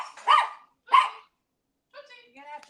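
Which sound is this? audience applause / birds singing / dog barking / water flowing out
dog barking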